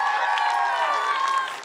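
Parents applaud at a charter school graduation in Hempstead, a steady wash of crowd clapping running throughout, with tonal voices or music layered over it and a faint fade near the end.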